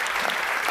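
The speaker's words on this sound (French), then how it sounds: "Je voudrais un tonnerre d'applaudissements pour toutes les personnes qui ont participé" Theatre audience at a cultural season presentation applauds, a dense, steady wash of many hands clapping throughout, close and full with no break.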